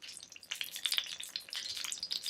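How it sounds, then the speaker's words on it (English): Oil heating in a pan on a home kitchen stove gives off a steady, close crackling sizzle with scattered sharp pops, continuous throughout with no voices. "You can see the oil starting to heat up."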